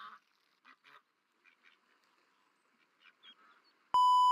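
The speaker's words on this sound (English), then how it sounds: "I hear duckies." Ducks in the Duck Simulator video game give a few faint, scattered quacks over a quiet background, ending in a loud steady electronic beep.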